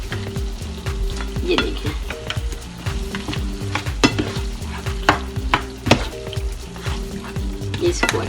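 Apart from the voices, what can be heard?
khara masala mutton with yogurt being fried and stirred in pan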